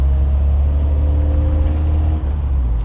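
A 1967 MGB GT engine pulling in third gear, a loud steady low drone under road noise, with rain on the road.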